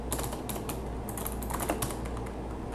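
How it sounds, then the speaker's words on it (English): Rapid, steady keystrokes on a computer keyboard while writing code for a Blink Script tutorial in Nuke, close and clear over a low background hum. "I'm typing all of it"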